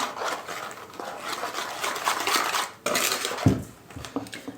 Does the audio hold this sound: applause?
no